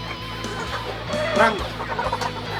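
Chickens clucking close by in a home setting, short irregular clucks over background noise, with a brief spoken word.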